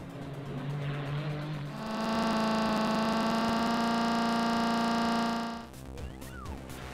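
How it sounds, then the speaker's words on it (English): A synthetic, buzzy engine drone from the Amiga racing game Crazy Cars holds a steady pitch and then abruptly cuts to noisy electronic hiss and skid chirps, loud and up front with no talking. "The in-game engine noise and skid sound effects were digital recreations"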